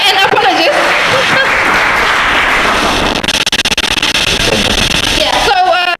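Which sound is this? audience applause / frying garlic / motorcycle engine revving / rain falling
audience applause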